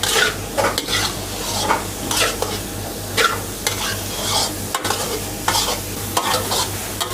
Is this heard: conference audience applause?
no